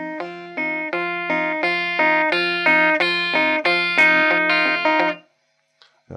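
A rockabilly guitar lick repeats in a steady pattern of picked chords, each attack fading slightly before the next, rising gradually in volume before stopping abruptly, followed by a faint brief noise.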